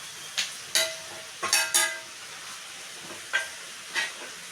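Garlic, mustard seeds and ground cumin and coriander frying in hot tempering oil for a big batch of chivda, giving a soft steady sizzle broken by several sharp crackles and pops, close up and with no voices.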